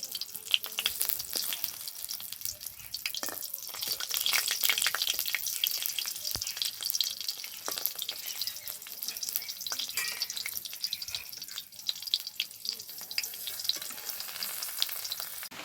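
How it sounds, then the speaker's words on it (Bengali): Fish roe paturi fry in a pan, Bengali style, a steady, dense sizzle and crackle of hot oil with a slight swell in the middle, close and continuous with no talking. "মাছের ডিমের পাতুরিগুলো খুব ভালোভাবে ভেজে নিয়েছি"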